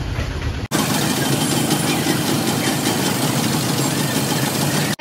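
Auto rickshaw engines rumble on a narrow, crowded street in Bengaluru's Chikpete, a loud, steady idling drone filling nearly the whole stretch after a brief quieter opening.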